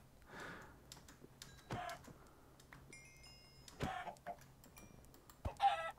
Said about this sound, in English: where are all these chickens you're talking about?